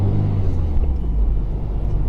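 A 2019 Mazda MX-5 engine hums low and steady from inside the car while driving in traffic, a close, continuous rumble with slight rises in pitch and no speech over it.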